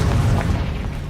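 A Confringo fire-blast spell detonates in the video game Hogwarts Legacy, a single close, loud boom with a deep low rumble that lingers briefly and then fades.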